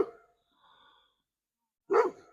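A dog barks at a delivery driver pulling up outside: one loud, close bark bursts out near the end after a few quiet seconds with only faint sounds before it.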